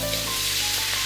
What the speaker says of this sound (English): you wanna like let some of that bacon fat render out as well as crisp things up a little bit